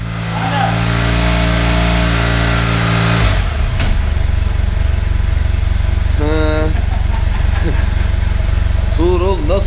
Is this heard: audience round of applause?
no